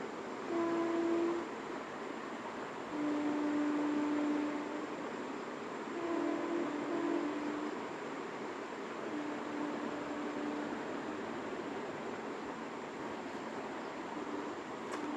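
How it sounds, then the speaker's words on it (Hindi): A train passes nearby at night with a steady rumble and hiss of rolling cars, its horn sounding in several long, sustained blasts that rise above the continuous noise over about fifteen seconds. "इसलिए ट्रेन भी जा रही है बगल से"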